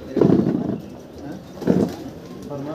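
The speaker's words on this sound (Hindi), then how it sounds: "ये हरी कबूतरी आ गई है जी।" A green female pigeon coos close by in a few soft, low, throaty phrases at a rooftop loft where pigeons are kept, with faint background noise between the calls.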